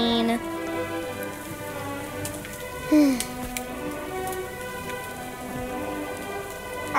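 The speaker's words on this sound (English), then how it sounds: "Being out in the rain." Steady rain falls throughout a scene in the Roblox game Royale High, an even, moderately loud hiss of drops that continues without pause, with one brief brighter tone rising over it near the middle and no talking.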